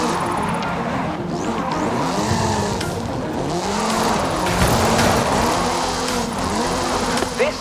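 Hoonigan Gymkhana 10 Ford Focus RS RX with a 2-litre turbocharged front-mounted engine and all-wheel drive, in Forza Horizon 5, revs and drives hard with continuous engine drone, gear-change sweeps and tire squeal, loud throughout.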